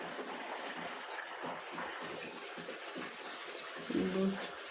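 Water runs continuously from a water authority pipe connection outdoors, a steady, moderately faint rushing flow with a brief louder splash near the end and faint voices around it.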